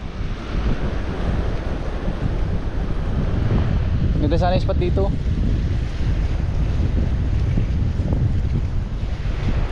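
Ocean surf rolls onto a steep, slippery shore in steady, loud broadband wash, heavily buffeted by wind on the microphone, while people speak briefly partway through.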